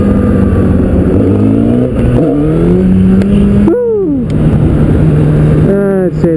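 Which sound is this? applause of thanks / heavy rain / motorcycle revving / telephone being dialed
motorcycle revving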